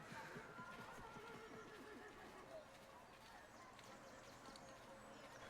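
Horses neighing and whinnying with clip-clopping hooves in the video game Assassin's Creed Revelations, a lively, busy bed of game ambience that stays faint and distant throughout.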